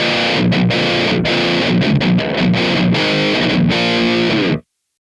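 Electric guitar on the bridge pickup, driven by a Tube Screamer into a Mesa Boogie Dual Rectifier amp model, chugs a loud, dense distorted riff with rhythmic palm-muted stops, then cuts off abruptly.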